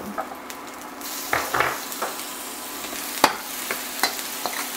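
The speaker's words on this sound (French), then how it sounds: "on va mettre l'équivalent de 2 cuillères à table d'huile. Vous pouvez en mettre un petit peu plus si vous voulez. Et on va mettre l'ail et le gingembre." Garlic and ginger sizzle in about two tablespoons of hot oil over high heat for beef and broccoli, a steady close hiss with sharp pops, spatters and occasional stirring scrapes.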